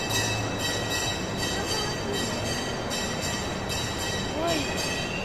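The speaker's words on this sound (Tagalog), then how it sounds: "sakay tayo ng train, oh." A passenger train rolling along the tracks, heard from inside a car with a continuous rumble, rhythmic wheel clatter at regular beats, and a faint squeal near the end.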